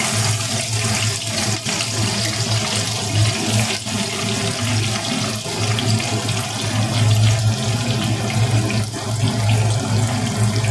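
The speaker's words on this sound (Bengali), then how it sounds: "এবার পেঁয়াজটা তেলে দিয়ে দেব।" Onion goes into hot oil for a capsicum, onion and tomato dal and fries with a loud, continuous sizzle that hisses evenly for several seconds with no voices.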